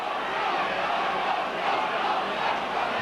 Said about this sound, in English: Partisan Leeds crowds calling for his dismissal.